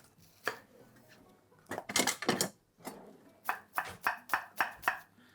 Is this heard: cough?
no